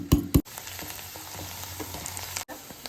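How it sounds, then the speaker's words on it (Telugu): Onions fry in a pan with a constant close sizzle, opening with two sharp clattering hits, then a busy crackling hiss with a brief break near the end; no one speaks. "ఆనియన్స్ బ్రౌన్ అయ్యే వరకు కొంచెం వేడి చేద్దాం."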